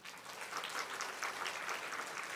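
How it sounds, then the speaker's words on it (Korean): A congregation at a Sunday joint church service applauds, a dense, steady wash of many hands clapping together at a fairly even level throughout, with no one speaking. "우리 박수 한번 해주십시다"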